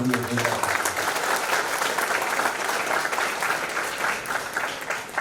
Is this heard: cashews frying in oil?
no